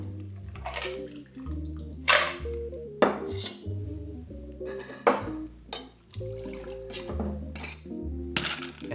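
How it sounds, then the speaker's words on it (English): Ice is drained from a cocktail glass, with several sharp clinks and rattles of cubes against glass over sustained, tonal background music. "Now we drain the ice"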